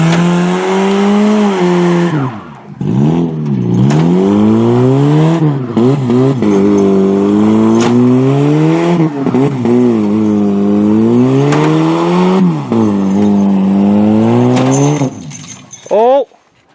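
A Chevrolet Cobalt's engine revs hard and steadily while straining to tow a Toyota Camry, its pitch repeatedly climbing and dropping in loud, sustained pulls that close with a final high squeal, with voices underneath.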